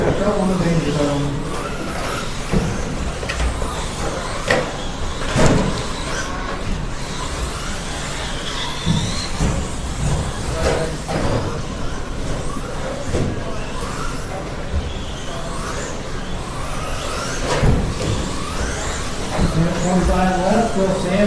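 RC trucks race on a track, their small motors whining and buzzing continuously with scattered clicks and knocks, while a commentator talks over the action throughout.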